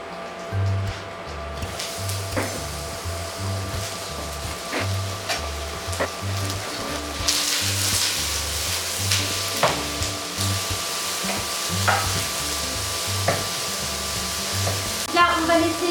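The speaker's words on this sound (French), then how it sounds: "L'huile est bien chaude, donc on va pouvoir commencer à mettre nos oignons." Onions frying in very hot oil in a pan for a vegan burrito, a continuous sizzle with intermittent stirring scrapes and taps and a low steady hum beneath, with no voices.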